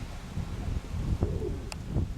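Pigeons cooing close by, low soft coos under a rustle of wings and movement as birds settle onto a perch, with one brief sharper call near the end.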